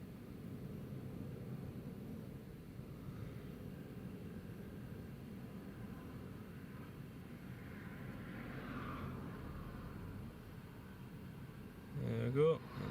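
British Airways airliner taking off at Newcastle airport in gusty wind, a faint, steady distant jet roar with wind noise, and a brief louder buffet near the end.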